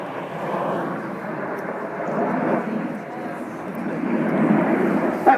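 Red Arrows jets fly overhead in formation at about 2,500 feet and 400 mph during an airshow, a broad loud roar that swells and ebbs steadily under a commentator's voice.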